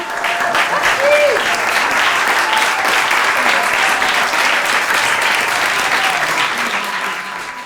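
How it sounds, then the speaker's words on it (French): Loud, dense applause from a large theatre audience in Monaco fills the whole stretch, steady and sustained with a faint murmur of voices. "tout ça se termine dans une explosion d'applaudissements"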